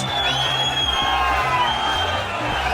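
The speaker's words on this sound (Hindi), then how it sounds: "नारेबाजी करती हजारों की भीड़" A large crowd of thousands at a street protest shouting slogans in unison, a dense roaring wash of voices with rhythmic chanting swells throughout.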